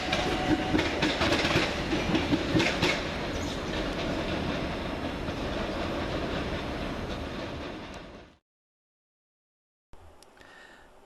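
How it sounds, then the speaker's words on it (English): A British Class 377 electric train departing Brighton station rumbles and clatters steadily, loud and close, then fades abruptly to silence before faint station noise returns. "our final train sees 377428 depart by itself with the delayed 1431 Southern service to Hastings"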